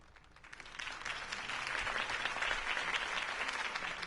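Crowd applause at a political campaign speech in Batman: The Telltale Series, a sustained burst of many hands clapping that swells in the first second and holds steady at moderate distance.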